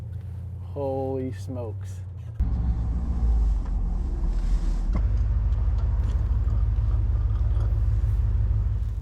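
A limousine with a sticky gas pedal pulls out onto the road, its low engine rumble rising steadily and continuing right after a brief excited exclamation from a person in the car.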